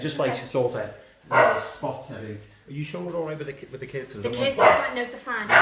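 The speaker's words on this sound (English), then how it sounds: "Excuse the dogs." Dogs bark indoors in a house in Liverpool, several bursts of yapping scattered under and between steady conversation among adults.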